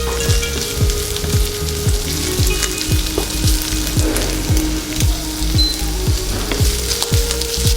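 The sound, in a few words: boiled beef strips frying in a pan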